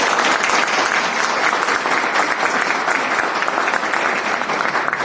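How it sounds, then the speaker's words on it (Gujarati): A room full of trainees at a training session claps warmly, a dense and steady applause that runs evenly for the whole five seconds without a break. "તમારી માટે એક જોરદાર તાળી દીધી"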